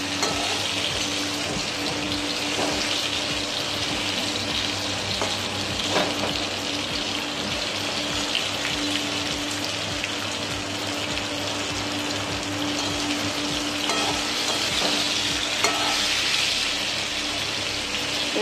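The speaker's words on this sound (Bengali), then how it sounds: "একটু সবজির মতো ভাজা হয়ে যাক" Raw banana pieces fry in a pan after salt is added, a continuous soft sizzle with faint stirring and a low steady hum, moderately quiet and unbroken, with no talking.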